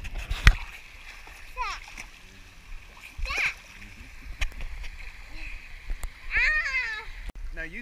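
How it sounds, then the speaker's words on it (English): A young girl swimming and splashing in water outdoors, with scattered close splashes and sloshing while a voice and an adult's voice talk over them. "Taking a movie of you swimming."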